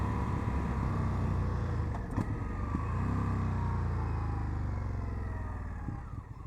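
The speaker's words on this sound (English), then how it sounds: "Rev matching, downshifting smooth and easy." An Indian FTR 1200 motorcycle engine on the road drones steadily, with a brief blip and dip around a downshift before settling back into a smooth, continuous hum.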